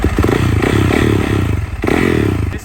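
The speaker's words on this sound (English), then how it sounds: "apparently you have to start your engine and heat up the oil somehow" A motorcycle engine with a rod-knock fault runs steadily close by, a continuous low rumble with a rough, clattering edge and a brief dip in level partway through.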